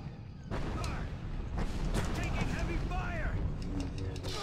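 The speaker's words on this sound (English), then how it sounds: "Heavy fire, alright." Heavy blaster and weapon fire in the Star Wars: The Force Unleashed video game, a dense, loud rumbling barrage of booms and bursts with a player talking over it.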